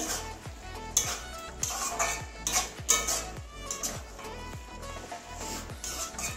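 A spatula stirs grated garlic into a vegetable curry of amaranth stalks and eggplant in a pan, scraping and clinking against the metal in a steady, quick rhythm of repeated strokes, close and fairly loud, with no talking.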